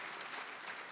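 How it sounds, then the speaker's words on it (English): A crowd applauds the president at a National Scholarship Programme tertiary education assessment event. The clapping is dense and continuous, filling the whole moment with a steady wash of sound. "Please, let's just give our president a round of applause"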